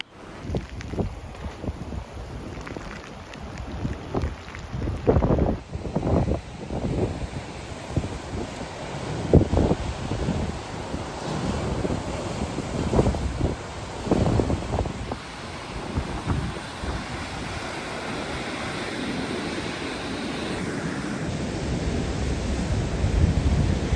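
Heavy rain pours outdoors near a waterfall in a storm, a steady, loud rushing roar with bursts of wind buffeting the microphone throughout, and no voices.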